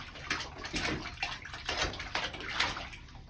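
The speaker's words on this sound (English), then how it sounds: "Water. Splash." Water sloshes and splashes in a bath as a young child is washed, a series of irregular soft splashes and trickles, close and moderately loud, without talk.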